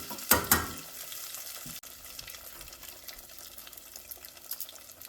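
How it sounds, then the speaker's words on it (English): Beer-battered fish, coated in a very light batter, dropped into hot oil: a sharp splash and burst of sizzling, then a steady bubbling fry continuing close by with no talk. "then I'm going to put it straight into the oil. Just let it swim around a little bit."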